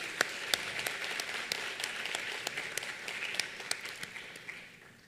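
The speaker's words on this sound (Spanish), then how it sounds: "Le pido un fuerte aplauso para todos." A room claps for a group of honorees at a dental magazine awards ceremony during a dental aesthetics congress, with sustained even applause and scattered sharper claps that slowly taper off.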